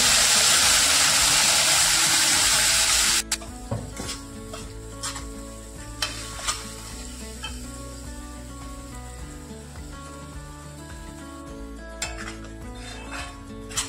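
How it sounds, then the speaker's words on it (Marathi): A ground onion, tomato, ginger and garlic paste hitting hot oil in a pan, loud hissing at first, then quieter sizzling under repeated clinks and scrapes of a spoon stirring. "हे वाटण आपण 2 मिनिटांसाठी परतून घेणार आहे"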